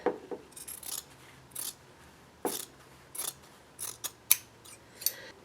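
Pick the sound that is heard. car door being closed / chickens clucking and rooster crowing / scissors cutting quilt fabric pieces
scissors cutting quilt fabric pieces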